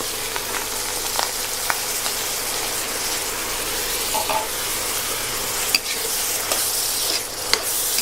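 Wild earthstar mushrooms stir-fried with egg in a hot pan as plain water is added, a loud steady hiss and sizzle with occasional clicks of the spatula, close up and continuous.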